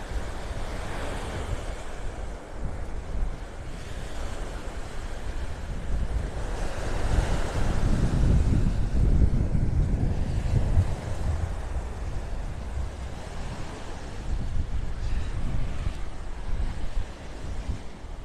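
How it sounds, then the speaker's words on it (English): Steady, strong north wind buffeting the microphone on a beach in North Naples, Florida, with rolling surf along the shore underneath, continuous and loud throughout. "Right now I'm walking into the wind, directly into it, coming out of the north."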